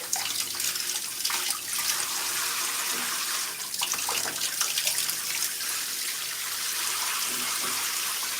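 Hot water runs steadily from a tap during a hair rinse to wash out conditioner, a continuous close splashing hiss with brief changes in flow throughout.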